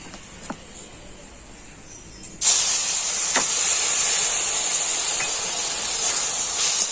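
Milk poured into a pan of hot fried semolina (suji) erupts at about 2.5 seconds into a loud, steady hiss that keeps going until the end. Before it there is a quieter sizzle with a couple of faint clinks.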